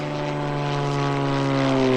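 An Extra 300 aerobatic propeller airplane at an airshow drones steadily and loud, its harmonic engine hum rising slightly as it manoeuvres, with no voices.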